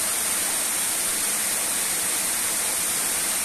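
A small waterfall more than 150 metres high pours down steadily, a dense, even roar of falling water that fills the whole clip without pause or voices.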